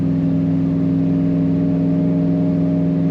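A 1955 Chevrolet 210 engine runs steadily with a low, throbbing exhaust note, a smooth continuous hum with no talking.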